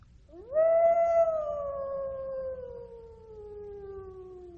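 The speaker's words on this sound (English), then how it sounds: "Far away in the forest, they heard the long, eerie wolf howl." A long, eerie wolf howl in a forest rises sharply, holds and slowly falls in pitch, a single sustained call sounding somewhat distant against quiet background.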